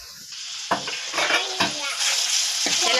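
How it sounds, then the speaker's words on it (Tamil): Fenugreek seeds and spices fry in a pan with a steady close sizzle, broken by several sharp scrapes and clinks as they are stirred. "எல்லாத்தையும் நல்லா வறுத்துக்கணும்."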